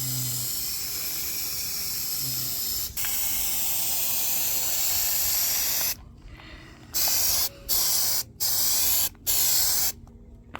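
Spray adhesive hisses steadily from a can onto car headliner fabric, a close continuous spray that later breaks into several short bursts separated by brief pauses.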